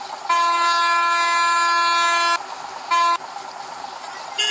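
A modded bus horn in Bus Simulator Indonesia v4.4.1 blares in a loud sustained chord for about two seconds, breaks off, then gives a second short blast and a brief final toot.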